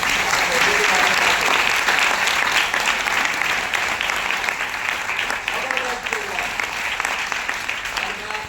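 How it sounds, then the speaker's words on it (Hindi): Loud crowd clapping at an empowerment training event, a thick continuous burst of applause that gradually eases slightly, with faint voices mixed in underneath. "ताली वाली बजा के नहीं बताओगे क्या?"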